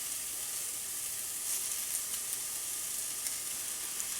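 Small minced beef patties frying in a pan, a steady bright hiss of sizzling fat with faint crackles, constant and close.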